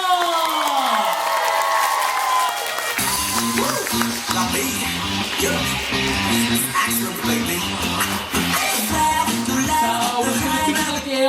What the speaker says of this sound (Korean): 한번 더 박수 주세요